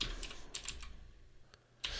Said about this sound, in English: we'll just try typing morning ritual